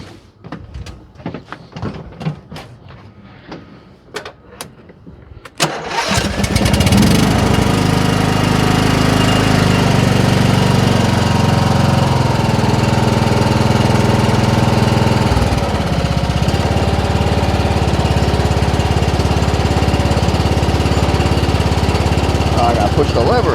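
A lawn mower engine with a suspected leaking float needle valve fires up after a few clunks and knocks, then runs loud and steady at close range, with a slight dip in pitch partway through.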